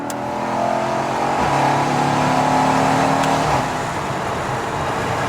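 A Honda FD2 Civic Type R engine revs loudly as it accelerates, its droning pitch climbing and holding before easing off.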